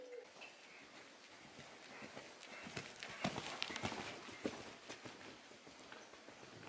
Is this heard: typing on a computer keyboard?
no